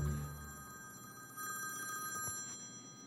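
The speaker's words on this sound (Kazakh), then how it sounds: "Так, телефон на беззвучный поставьте, а?" On a film set, a telephone bell rings with a bright repeating trill, fairly faint and somewhat distant against quiet room tone.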